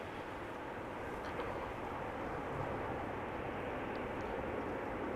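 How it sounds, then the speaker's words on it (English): An Embraer 195 airliner arriving at Amsterdam Schiphol Airport gives a steady, broad engine roar that holds at an even level for the whole stretch, with no voices. "Regular Embraer 195, not an E2."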